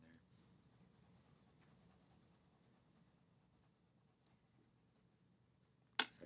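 Pencil drawing on paper against a straight edge, a faint continuous scratching and scraping, ending with a sharp louder tap.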